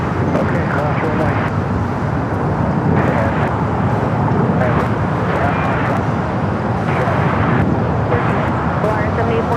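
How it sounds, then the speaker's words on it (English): A China Airlines Boeing 777 freighter arrives at LAX, a steady broadband jet roar with wind noise, continuous and moderately loud throughout, with faint voices in the background. "China Airlines cargo flight 5116 coming in from Taipei on this 777 freighter"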